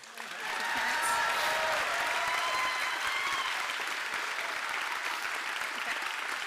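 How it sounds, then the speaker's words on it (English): Graduation guests at a medical school commencement applaud the parents, a broad, steady roar of clapping from a large crowd heard at some distance, with faint voices mixed in beneath. "let's give a round of applause to the parents"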